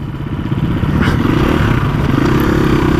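A 2019 Husqvarna FE250 off-road motorcycle rides a dirt trail, its engine a loud, steady, close buzzing drone, with rising revs and faint clatter from the terrain.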